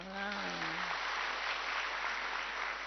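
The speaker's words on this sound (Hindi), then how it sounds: "ताली बजाओ।" An audience claps at an evening spiritual class, producing a dense, even patter of applause that holds for about three seconds while a voice speaks briefly at the start.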